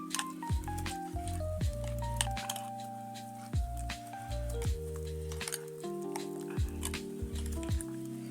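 Gram flour paste with green coriander stirred by hand in a bowl, giving soft wet squishing and sticky dripping sounds in uneven strokes, close up with no talking.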